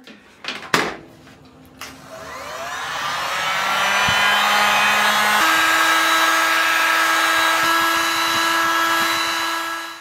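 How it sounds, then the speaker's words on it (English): A heat gun smoothing the tops of soy candles starts up after a couple of clicks and builds to a steady, loud blowing whir that holds for several seconds. "then I take the heat gun to smooth them"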